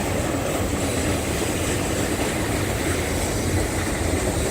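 A CSX auto rack freight train rolls past near LaGrange, Georgia, a continuous loud, broadband rumble and rushing roar of railcars on the track, steady throughout with no voices.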